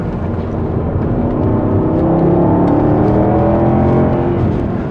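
A Jaguar XK with a 300-horsepower engine accelerates out of a hairpin, a loud, close engine roar rising steadily in pitch and strength over several seconds with no talking.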